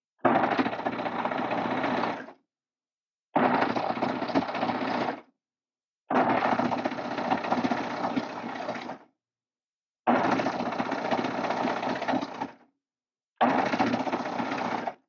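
A sewing machine stitching over the seams of a fleece-style neck warmer, running in five steady buzzing bursts of two to three seconds each, separated by short silent pauses.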